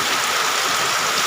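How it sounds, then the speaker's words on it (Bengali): Heavy rain pours down steadily in a dense, unbroken hiss, loud and close, with no voices. "বিশ মিনিট যাবৎ একই ধারে বৃষ্টি হইতেছে এখনও বৃষ্টি"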